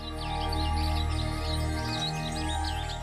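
Birds chirp around Chandra Taal lake, with quick, light tweets repeating through the clip over a loud, steady drone that sits underneath them.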